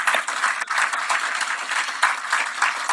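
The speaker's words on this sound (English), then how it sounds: "How about a big round of applause for this massive feat?" An audience applauds at a launch event marking the linkage of Singapore's and India's real-time payment systems, a dense, steady wash of many hands clapping continuously throughout with no voices over it.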